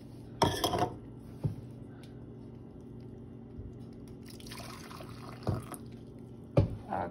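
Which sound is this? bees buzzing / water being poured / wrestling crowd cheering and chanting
water being poured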